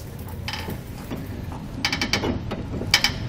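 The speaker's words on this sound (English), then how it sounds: "we can use our jack here to raise up on the axle" A floor jack ratchets up under a tandem trailer's axle during a heavy-duty suspension install, giving a handful of sharp mechanical clicks, with a quicker cluster of ratchet strokes near the end, close and fairly loud with no talking.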